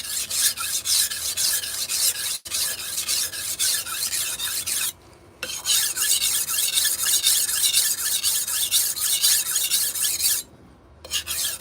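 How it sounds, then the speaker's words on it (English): A damaged knife edge is dragged back and forth on a sharpening stone to work the burr, making loud, close, continuous rasping strokes with two short pauses. "If you can hear, I'm dragging the burr."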